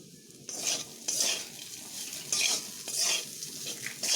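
A semolina mixture seasoned with Maggi masala is stirred in a pan, heard as repeated rhythmic scraping strokes over a soft sizzle, close up and with no talking.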